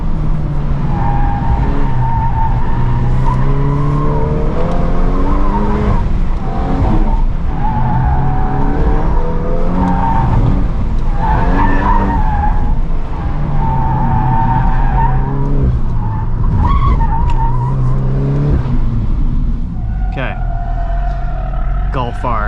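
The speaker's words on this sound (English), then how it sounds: "Golf R, drift mode." A VW Golf R in drift mode squeals its tires in long wavering pitched screeches over a loud engine drone, close and sustained across the run, with someone talking over it at times.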